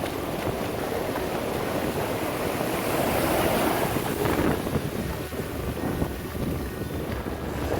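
Sea waves wash onto a beach in a continuous surging roar, mixed with gusty wind buffeting the microphone, loud and close.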